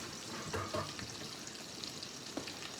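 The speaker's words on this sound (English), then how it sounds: "Let's see what I got going here while those are frying." Fried peach pies cooking in hot oil, heard as a soft, continuous crackling sizzle that stays quiet and even throughout.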